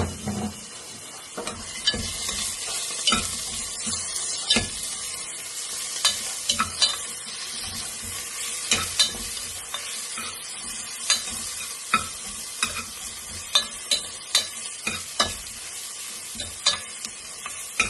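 Onion, ginger and garlic fry in oil with a steady sizzle, broken by frequent sharp scrapes and knocks as a utensil stirs them around the pan, close and alone without speech.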